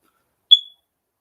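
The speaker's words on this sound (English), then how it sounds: "There's that damn fire alarm again." A single short, shrill fire alarm beep rings out once, clean and isolated against near silence, fading quickly.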